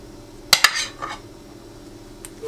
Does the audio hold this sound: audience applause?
no